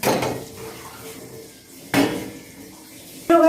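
A lid is set onto a metal pot of water heating on the stove while suji idli is steamed without a cooker; two sharp metallic clanks, the second ringing briefly, stand out clearly.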